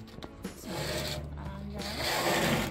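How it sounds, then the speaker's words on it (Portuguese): Close, continuous rubbing of sandpaper on wood with a steady raspy texture, faintly rising in intensity over a low background hum. "A Catherine tá lixando."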